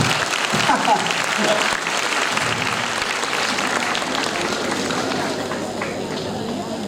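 School annual day crowd applauding gold medal winners, a loud, dense wash of clapping that begins strong and gradually eases, with voices mixed in.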